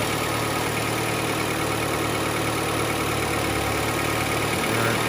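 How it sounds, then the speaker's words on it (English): A Toyota Camry with 474,000 miles, already warmed up, idles steadily right after starting, a constant loud engine drone and hum close to the microphone with no talking. "I'm gonna start her up and I'll let you hear the car. This is how she sounds like right now."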